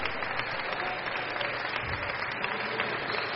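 A racquetball crowd applauds at a semifinal match in Kansas City, steady dense clapping heard at a moderate distance, filling the short stretch without pause.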